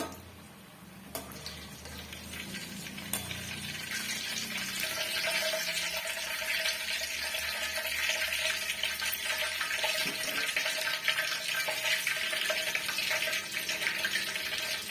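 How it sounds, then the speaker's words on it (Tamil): Battered cauliflower deep-fries in hot oil for KFC-style florets, a steady bubbling hiss that swells after the first few seconds and holds close and loud, with no voices. "இப்ப இந்த பபுள்ஸ் எல்லாம் வந்து முழுமையா அடங்கணுங்க அப்பதான் வந்து கரெக்டா வெந்து வந்திருக்குன்றது அர்த்தம்"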